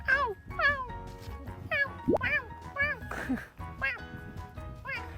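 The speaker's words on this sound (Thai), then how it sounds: "แบบนี้ยังมีแมวอีกเหรอ" Cats meowing repeatedly on a cat-filled island in Fukuoka, Japan, a series of clear, close, rising-and-falling mews in quick succession, with a person's voice briefly mixed in.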